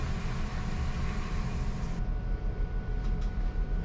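A GWR Class 166 diesel train running on the main line near Blatchbridge Junction, a steady loud rumble and roar of wheels and engine heard from onboard, continuous with no talking.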